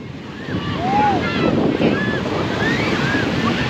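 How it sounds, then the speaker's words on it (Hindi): Rough sea waves crash and roll continuously onto Manora beach, a loud steady wash of surf mixed with wind buffeting the microphone, with faint distant voices and cries above it. "समंदर की लहरें हो गई है खतरनाक।"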